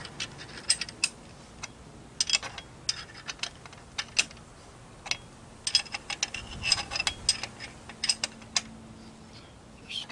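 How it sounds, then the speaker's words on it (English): A 5/8 wrench ratchets bolts tight on a 50 hp Mercury outboard water pump, with quick bursts of close metallic clicking in irregular runs separated by brief pauses, fairly faint, with no speech. "Then you take your 5/8 wrench and start tightening these up."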